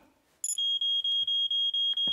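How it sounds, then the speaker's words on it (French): Smoke detector alarm being tested in a Fireman Sam cartoon: a sharp electronic burst, then a loud, steady run of about seven evenly spaced high beeps, with no talking. "J'ai un détecteur de fumée comme tu me l'as demandé."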